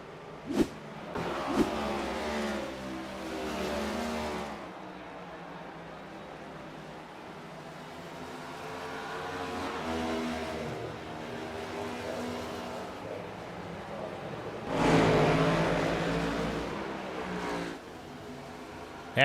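Race cars at the Gateway 150 roar past, engines rising and fading in long sweeping passes with a loud close pass near the end, no talking over them.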